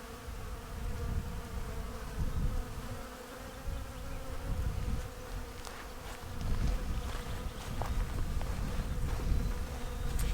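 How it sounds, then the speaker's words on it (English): A dense, steady buzzing of many bees swarming close by on a flowering plum tree in an orchard, a continuous drone with no voices. "the insane amount of bees on our plum tree here. Holy cow. Can you hear them?"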